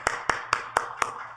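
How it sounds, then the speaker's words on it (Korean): A church congregation gives applause as five distinct, evenly spaced hand claps, crisp and fairly close, ringing out in quick succession in the worship hall. "하나님께 영광의 박수를 올리도록 하겠습니다"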